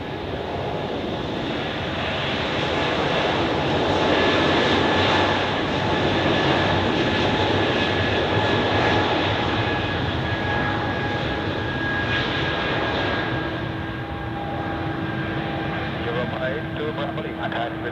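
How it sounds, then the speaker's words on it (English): An airliner rolls across the runway while taxiing to the gate at Zurich Airport, its engines giving a steady, loud roar that holds throughout. Wind noise and talk sit faintly underneath. "So now it is allowed to cross the runway and taxi to the gate, most likely at dock A."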